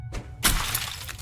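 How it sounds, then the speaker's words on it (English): A tablet smashed against a wall in the horror game Tiny Bunny, a sharp loud crash bursting out after a brief lull, followed by a scattered shattering rattle that fades over a second. "I sent the tablet flying into the wall and smashed it into pieces."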